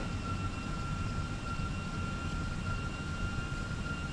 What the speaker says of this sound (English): Gears down, reversers engaged.